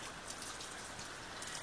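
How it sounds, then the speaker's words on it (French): Rain falling in Lapland, a dense, even hiss of drops pattering steadily and close throughout with no voices. "Aujourd'hui, il pleut, c'est une grande première."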